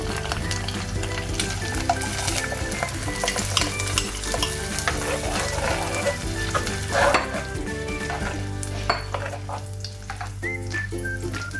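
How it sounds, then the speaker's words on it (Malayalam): Onions frying in a pan for Kerala-style egg curry, with a steady, close sizzle and occasional stirring scrapes that run the whole time, with no talking. "ഉള്ളിയൊക്കെ നല്ല ഫ്രൈ ആയിട്ടുണ്ട്, നല്ല മണമൊക്കെ വരുന്നുണ്ട്"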